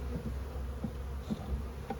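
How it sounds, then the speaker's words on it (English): Bees buzzing close by in a continuous hum, with individual insects droning past now and then. "Do I have 700 bees in my back, Phil?"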